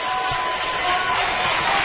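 A Larkin High basketball crowd in a high school gym cheers a referee's call during the championship game against Barrington, a loud, sustained roar of voices lasting about two seconds.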